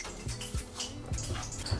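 Raw chicken pieces dipped into a bowl of water between coats of seasoned flour while making crispy fried chicken, giving short splashes and drips, close and fairly quiet, with no talk.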